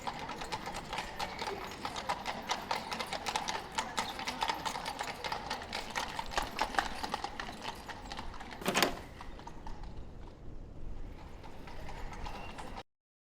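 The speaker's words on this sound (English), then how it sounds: "There are just a few horses and buggies for sale." Rapid, steady clip-clop of horses' hooves on a hard surface, mixed with mechanical rattling, before a sudden stop near the end.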